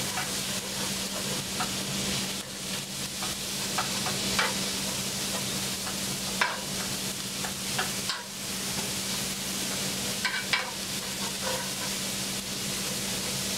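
Prosciutto sizzles and fries in a hot pan for a carbonara alla vodka with mushrooms, giving a steady broadband crackle and hiss with a constant low hum beneath and occasional stirring scrapes and clinks.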